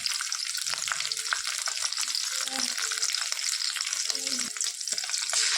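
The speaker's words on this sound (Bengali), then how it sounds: "সমস্ত সবজিগুলো ভাজা হচ্ছে ভেজে রাখা ফুলকপিগুলো দিয়ে দেবো" Mixed vegetables with pre-fried cauliflower sizzle loudly in a pan, a dense continuous hiss with scattered crackles and occasional stirring clinks and scrapes, with no talking.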